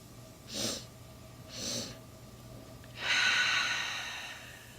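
Three short sniffing inhalations through the nose, close and clear as part of a breathing exercise: two quick separate sniffs followed by a longer, stronger third intake of breath.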